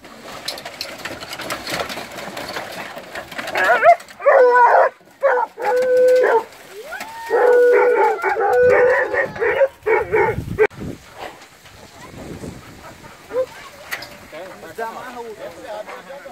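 Hunting dogs bark excitedly during a wild boar hunt in Brazil, with several loud bursts of barking and yelps close by, mixed with people talking and rustling movement.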